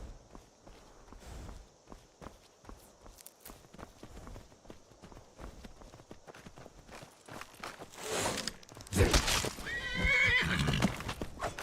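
Hooves clip-clop in a steady walking rhythm, then a horse in the game Skyrim snorts and gives a loud, drawn-out whinny close by.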